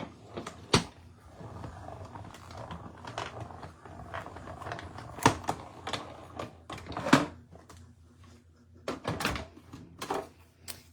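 A paper-crafting die-cutting machine cranks plates through, giving a series of irregular mechanical clunks, creaks and thumps at close range, with sharper knocks scattered across the run and no talk.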